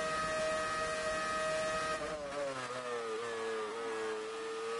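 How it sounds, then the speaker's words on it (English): A 2009-era Formula 1 V8 engine in F1 2018, racing at the Brazilian Grand Prix, sounds as a high tonal whine that dips, then climbs in pitch through the gears, steady and fairly quiet. "You can hear the engine notes rising. V8s used in 2009."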